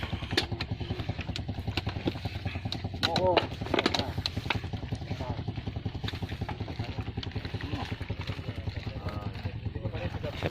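A motorcycle rides along a road with a steady, fairly loud engine drone and pulsing exhaust throughout, and a few brief clattering bumps come through the noise.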